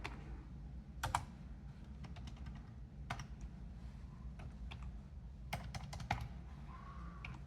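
Typing on a computer keyboard, close and quiet, a scattered run of individual key clicks over a low background hum with no speech.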